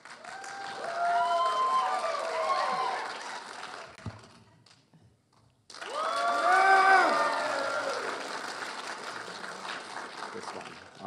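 A convention audience at a comic con panel applauds loudly in two long bursts split by a brief quiet gap, with cheering voices mixed into the dense clapping.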